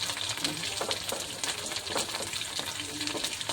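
Pitha frying in a pan, a close steady sizzle with crackling bursts and occasional stirring scrapes, continuous and loud with no talking.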